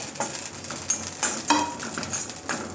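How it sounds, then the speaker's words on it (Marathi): Sesame, poppy and niger seeds dry roasting in a pan over low heat, stirred with a spoon: repeated light scraping strokes and a soft, dry crackle, close and steady, with no voices. "खमंग मसाले कमी गॅसवर हे भाजून घ्यायचे"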